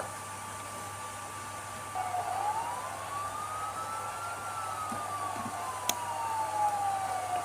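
Police siren of an Aston Martin Vantage V12 police car in a driving video game, a single slow wail rising and falling over a steady background hum, moderately loud and alone.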